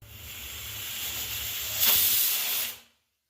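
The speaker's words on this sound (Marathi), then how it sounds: "इथे मी कुकर लावला आहे तर आता मी विसल्स काढून घेणार आहे" A steady hiss of steam escaping from a pressure cooker whistle cooking dal, swelling louder toward the end before cutting off abruptly into silence.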